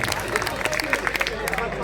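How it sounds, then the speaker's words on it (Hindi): Audience at an all-India mushaira at an inter college gives dense, sustained applause, a continuous clatter of many hands mixed with crowd babble and voices. "एक बार पुरजोर तालियां बजाएं"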